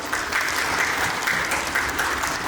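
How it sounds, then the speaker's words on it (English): Steady, dense applause from a large audience at a preschool's 20th annual day celebration welcoming the chief guest, loud and sustained throughout without talk. "please join me in welcoming our chief guest, Mrs. Kishori Rathi, with a huge round of applause"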